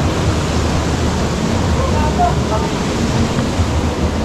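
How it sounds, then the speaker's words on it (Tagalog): Strong river current rushes through a dam in Barangay Bayabas, Bulacan, Philippines, a steady, loud broadband roar filling the whole stretch without letup. "Lakas ng agos."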